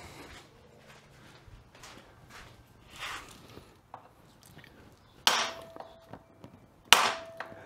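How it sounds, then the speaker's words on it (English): Rusted parts on a 1992 Kawasaki KX125 dirt bike get struck to free them, giving two sharp, loud metallic whacks that ring briefly, preceded by quieter clinks and handling noises close by. "Sometimes you can give these a couple whacks. It'll kind of free up the rust"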